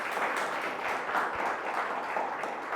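Congregation at a Hindi-language church service breaks into loud, sustained applause, a dense wash of many hands clapping steadily for nearly three seconds with no voices on top.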